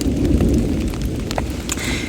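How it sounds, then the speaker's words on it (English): Heavy thunderstorm rain on the Appalachian Trail, a dense, loud wash of downpour with a low rumbling undertone of thunder, close and continuous, with no voices. "It seems like the storm's getting farther away"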